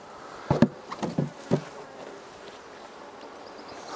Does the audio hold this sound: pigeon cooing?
no